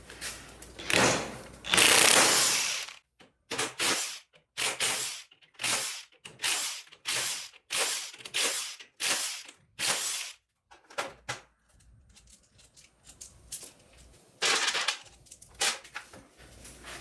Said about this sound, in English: So I'm gonna go ahead and start taking the ring gear bolts off.